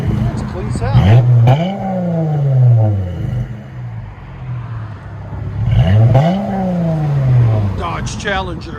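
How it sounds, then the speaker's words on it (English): Two strong throttle blips from a Dodge Challenger V6 running knockoff Flowmaster race mufflers with a rear delete. Each rev rises and falls back to a rumbling idle, captured loudly near the exhaust. "Dodge Challenger V6 got race mufflers in the middle, knockoff super tins basically, and rear delete"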